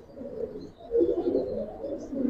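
Silver Giribaz pigeons coo in a low, rolling murmur that swells and fades in soft pulses, close by and alone without talk.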